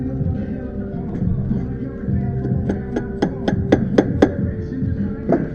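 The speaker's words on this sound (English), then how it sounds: "Plastic hammer." A plastic hammer taps a power steering pump on a Honda Accord 8th generation, about seven sharp, evenly spaced knocks in quick succession over a low background hum.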